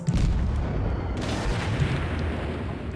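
Heavy naval shell impacts strike a warship in World of Warships, a dense rumbling barrage of booms and crackling bursts filling the whole moment, loud and close with no talking.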